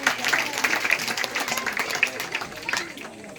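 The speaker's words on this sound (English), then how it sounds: "Give her a nice big round of applause" Scattered outdoor clapping from a small crowd watching a sheepdog herding demonstration, uneven bursts of claps at moderate distance with a voice talking faintly underneath.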